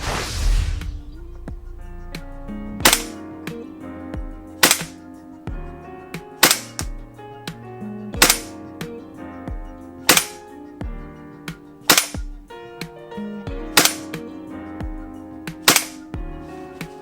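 A WE SCAR H gas blowback airsoft rifle fires about nine sharp, snappy single shots at roughly two-second intervals, each with a crisp crack and short metallic clatter, close and clear with no talk.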